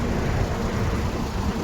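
Steady heavy rain pours down at a road crossroads along a truck route in Gujarat, a dense continuous hiss with a low rumble, loud and close, with no voices.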